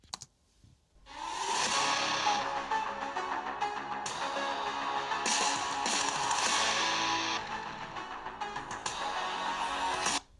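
Music plays through the two downward-firing speakers of a ThinkPad P14s Gen 6 laptop at 50% volume, a bright, fairly thin sound with a steady level after a short quiet lead-in.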